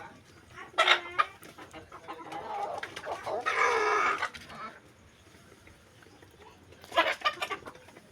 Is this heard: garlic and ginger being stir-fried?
no